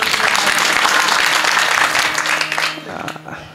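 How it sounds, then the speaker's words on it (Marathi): Applause from a kirtan audience for the singers and musicians, a dense burst of clapping that holds strong for over two seconds and then fades out quickly. "एकदा गायक वादकासाठी जोरदार टाळ्या झाल्या पाहिजे महाराज."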